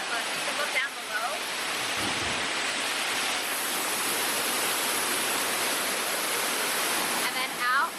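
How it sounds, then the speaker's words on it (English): A loud, steady roar of rushing, falling water fills the whole clip, broadband and unbroken, from right beside a waterfall in front of a wave pool at a water park. "It's very loud because the waterfall is right here in front of me, in front of the wave pool."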